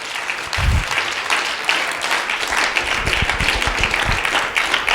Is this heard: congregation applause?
yes